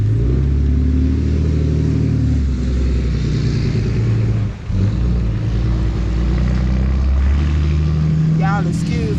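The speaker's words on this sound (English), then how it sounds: "Y'all excuse all these trucks." Work trucks near a garden where piping, fiber optic cable and gas line are being laid rumble loudly and continuously with deep engine drone, one vehicle revving past close by.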